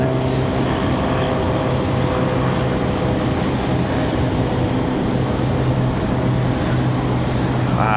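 TBM turboprop airplane at Raleigh-Durham airport, a loud steady droning hum with distinct tonal propeller bands held evenly for eight seconds.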